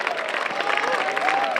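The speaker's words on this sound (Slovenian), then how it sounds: "Zasluži si aplavz Lukas Doni." Crowd applause for a race winner at a running event in Ormož, clapping and cheering from a gathered crowd, fairly loud, with a voice or whistle-like tone drifting over the steady clapping.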